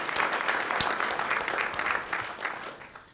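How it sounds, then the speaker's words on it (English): An audience at a conference panel on veterans breaks into steady applause, moderately loud and evenly sustained before it tapers off. "I'd like to have the audience give another applause for the fact that they shared our country as well"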